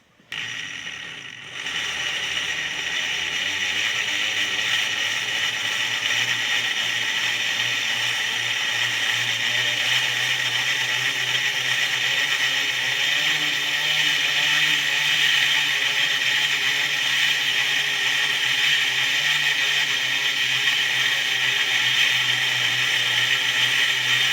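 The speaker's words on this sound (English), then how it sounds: "I'm going to be using this 120 to 200 Varencore burr, and I'm going to be perfecting my shaping a little bit" A rotary tool spins a 120 to 200 grit Varencore burr while shaping a round piece, a steady high whirring grind that runs loud and unbroken after a brief spin-up.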